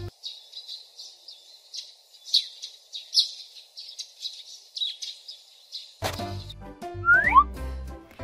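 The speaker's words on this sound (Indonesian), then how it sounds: "4 burung makau terbang bersama" Macaws call in a run of thin, high chirps and tweets, steady and fairly clear for about six seconds, before music takes over at the end.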